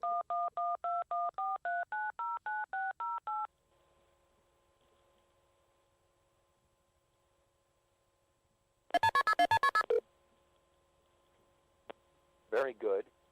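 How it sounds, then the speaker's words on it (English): Telephone keypad dialing tones for a call to the Cicada 3301 number: a quick run of about a dozen steady two-tone beeps, then a quiet line hum, a short burst of rapid tones, a click and a brief garbled sound. "when you rang that phone number"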